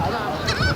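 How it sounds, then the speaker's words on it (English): Geese honking while being fed by people, a brief, loud, close burst of nasal honks. "We're feeding the birds, man."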